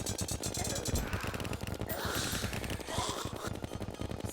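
Gunfire in the video game Terraria, rapid machine-gun-like bursts sounding loud and continuous throughout, with breathy vocal sounds mixed in.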